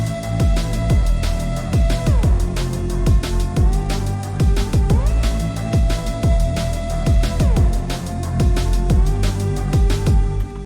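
Fast drum and bass beat with punchy kicks and snares driving under sustained synthesizer chords that shift through a progression, loud and dense throughout with no voice.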